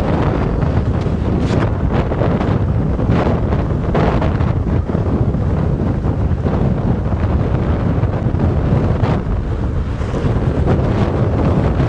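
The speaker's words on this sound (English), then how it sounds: "It's very, very windy. Sorry, everyone. Cover my mic." Heavy wind buffets the microphone continuously during an open safari drive, a loud roaring rumble with gusty surges throughout, nothing else clearly audible.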